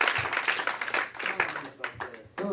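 Church congregation clapping in praise of the Lord, a short burst of applause that comes and goes under a preacher's voice speaking in French and English.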